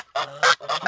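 A person imitates geese with three loud, nasal honks in quick succession, close and clear.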